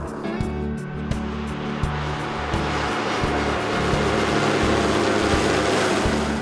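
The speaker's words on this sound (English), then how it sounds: "It's a 200-mile floatplane ride out to Wellesley here." A floatplane in flight drones with a loud, steady propeller engine hum, broken by regular low thumping pulses throughout, no voices.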